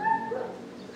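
A Kangal dog gives a short whimpering bark, a single brief yip with a whiny tone, fairly close and alone without speech.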